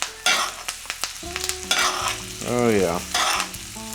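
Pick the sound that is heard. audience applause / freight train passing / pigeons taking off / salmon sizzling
salmon sizzling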